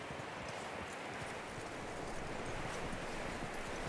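Horse hooves clip-clopping in the video game Red Dead Redemption 2, a soft, steady patter of footfalls against a rustling outdoor background, faint and continuous throughout.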